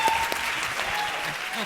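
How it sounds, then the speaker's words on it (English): An audience at a masterclass event applauds, a short burst of dense, steady clapping heard close and fairly loud, with a voice faintly mixed in. "an applause for Juanan."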